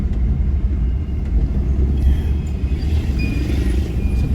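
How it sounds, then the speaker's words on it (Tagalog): Traffic rolling through a residential subdivision in the early evening, a steady loud low rumble of passing cars with a faint high whine partway through, no voices. "ang dami ng sasakyan"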